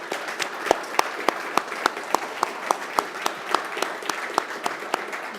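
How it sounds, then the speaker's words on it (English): Audience applause at the main stage of an AI summit in Pittsburgh, a steady round of clapping with sharp individual claps standing out, moderately loud and sustained with no talk over it. "we just gave a round of applause"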